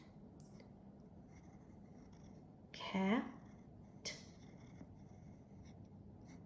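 A pencil writes letters on a handwriting workbook page, with a short burst of scratchy strokes in the middle and a brief second stroke after it, faint beneath a quiet speaking voice.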